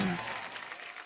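A short burst of applause from a TV studio audience, fading quickly over about a second.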